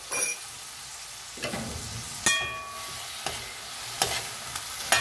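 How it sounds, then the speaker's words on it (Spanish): Spoon stirring sofrito into rice in a pot, a few scraping strokes and clinks spaced about a second apart over a soft background sizzle, close and fairly quiet. "Ahora vamos a mezclar para incorporar."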